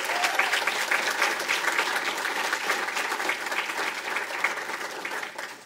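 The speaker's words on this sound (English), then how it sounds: "how about a big round of applause for all of the 2019 royalty?" An audience at a small-town Bar-B-Q Days coronation claps in steady, dense applause throughout, fairly loud and without voices.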